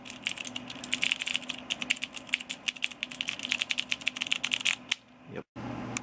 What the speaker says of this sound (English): And there's our keyboard. These are nice. Woo! Mechanical. Sounds so fun.